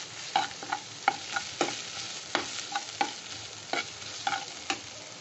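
A spoon stirs curry frying in a pan, making a regular series of clicks and scrapes against the metal over a soft constant sizzle, close and with no talking.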